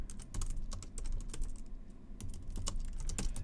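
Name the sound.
typing on a computer keyboard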